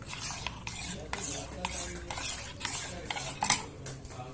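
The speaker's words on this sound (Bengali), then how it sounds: "দুধটা সবসময় নাড়াচাড়া করবেন" A spoon stirs milk with custard powder in a pot, scraping in a quick, regular rhythm of about eight strokes, close and clear, with a small clink near the end.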